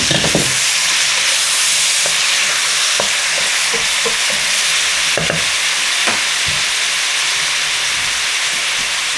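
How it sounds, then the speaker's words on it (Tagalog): Shrimp fry in a hot pan with tomatoes, giving a loud, dense, continuous sizzle and hiss, with occasional soft knocks of a utensil beneath it. "Lalagay ko na ngayon tong ating hipon."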